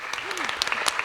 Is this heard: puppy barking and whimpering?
no